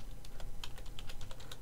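Quick, light clicks of typing on a computer keyboard, about a dozen keystrokes in an uneven burst, close and fairly quiet over a low background hum.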